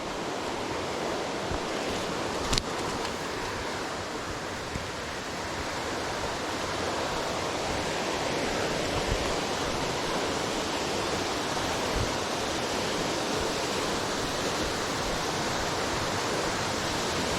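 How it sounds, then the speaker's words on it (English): A small waterfall on Darnell Creek pours steadily, a dense, unbroken rush of water that stays loud and close throughout with no voices. "You still got the waterfall. It's a smaller waterfall, but look at it."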